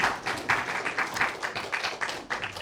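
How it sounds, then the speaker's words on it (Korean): A church congregation applauds after a scholarship presentation during a Sunday service, a steady patter of many hands clapping with brief louder bursts, filling the room for a few seconds. "박수 한번 더 크게 주십시오."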